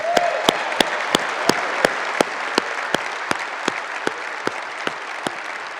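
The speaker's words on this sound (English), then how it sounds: "I'd like to give a round of applause to all our customers that are here joining us this week" A conference audience at a general session in Las Vegas gives a round of applause, heard as sharp, evenly spaced loud claps over a steady wash of crowd noise.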